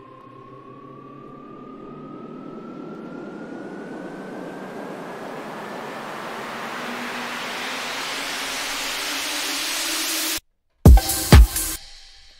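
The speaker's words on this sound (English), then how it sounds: "So I'll let you hear what these risers sound like on their own." Synth risers from an electronic dance track swell steadily over about ten seconds, a thin tone gliding upward inside a thickening wash of noise that grows louder, then cut off abruptly before a few short stuttering bursts.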